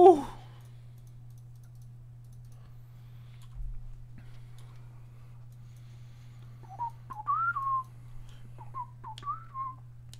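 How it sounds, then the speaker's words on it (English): A person whistles the whistling tune from Fallout: New Vegas, a few short wavering melodic phrases in the second half, heard faintly alone over a steady low hum with a few clicks. "You don't remember that whistling song?"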